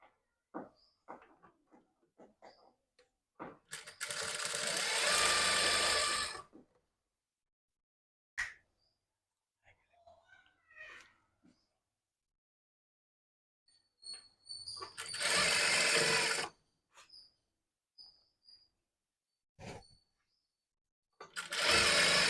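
A sewing machine stitches a blouse without lining in two loud whirring runs of about three and two seconds, separated by quiet stretches with scattered clicks and fabric handling.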